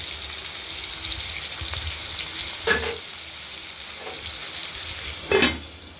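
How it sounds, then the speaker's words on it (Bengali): Koi fish frying in oil in a kadai for a potato koi fish curry, a steady close sizzle with a couple of brief louder bursts of spattering or stirring. "তেলে আমরা ভেজে নিচ্ছি।"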